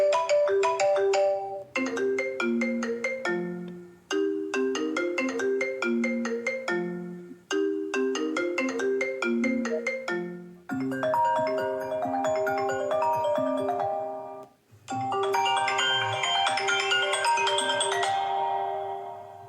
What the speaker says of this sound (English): Now we're going to listen to the iPhone ringtone evolution.